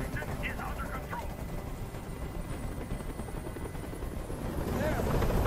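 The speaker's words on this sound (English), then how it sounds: "Tell that helicopter to get out of here." Helicopter hovering in the PS4 video game Detroit: Become Human, a steady, loud rotor drone that fills the scene and continues under a spoken voice.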